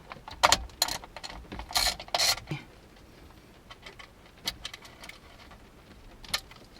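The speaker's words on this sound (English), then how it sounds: "this is an 8mm bolt. Put an 8mm socket." An 8mm socket turns a ground bolt during an adapter install in a 2014-2019 Toyota Tundra, heard as close metallic clicks and rattling ratchet bursts, loudest early, then sparse faint ticks.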